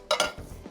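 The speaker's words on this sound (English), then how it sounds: "I'm just gonna use my pastry blender" Pastry blender working flour, butter, sugar and oats into a crumble topping in a bowl: two quick metallic scrapes and clinks close up, then softer muffled pressing through the crumbly mix.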